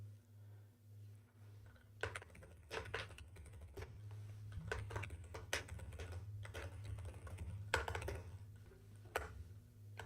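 Rapid bursts of clicking keystrokes on a computer keyboard, irregular and close, over a steady low hum with no voices.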